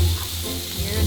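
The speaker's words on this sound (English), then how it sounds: "Here's that sizzle!" Chicken satay skewers sizzling on a gas barbecue, a brief soft crackling hiss close by for about a second.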